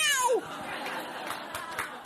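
On a stand-up comedy stage, a comedian's voice imitates a cat's screech in a sharp falling wail, followed by crowd noise and scattered laughter from the audience.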